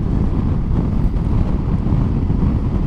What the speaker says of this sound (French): Je sais pas si tu l'entends, mais il y a pas mal de vent.